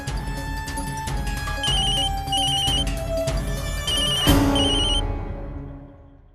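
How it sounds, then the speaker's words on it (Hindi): A phone rings with a repeating electronic ringtone, loud and close, in bursts of chiming tones that cut off near the end. "आदि का फोन है."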